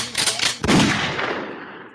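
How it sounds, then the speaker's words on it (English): A loud gunshot sound effect plays during a sports-talk podcast, a sharp crack followed by a rolling echoing tail, with a brief burst of rapid cracks just before it. "give him a gunshot. 2 gunshots. Load it up for him."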